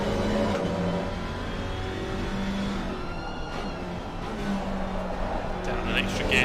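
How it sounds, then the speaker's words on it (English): A GT4 race car in a sim racing game at Zolder, its engine whining up through the revs close to over-revving, with rising and falling tones, under a commentator's steady talk. "You heard the car almost over revving and the car rotating on that lift off oversteer"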